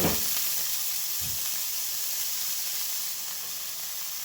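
Butter sizzling on a heated tava while making bread: a steady, even hiss of frying that runs throughout at moderate volume, with no voices.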